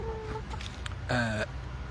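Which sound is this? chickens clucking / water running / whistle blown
chickens clucking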